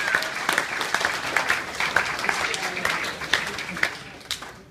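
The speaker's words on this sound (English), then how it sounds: "I think they deserve a round of applause for the wonderful event that they planned together." Wedding guests at a reception applaud after a maid of honour speech, with steady, dense clapping from a room full of people and some voices mixed in throughout.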